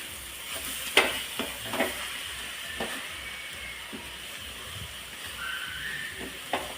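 Grated carrots for gajar halwa frying in ghee, a close, low sizzle with repeated spatula scrapes and taps against the pan at an uneven pace.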